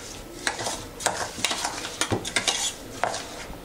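Saffron and sugar being mixed into shrikhand in a bowl, a run of quick scraping and clinking spoon strokes, close and fairly busy, with no talk.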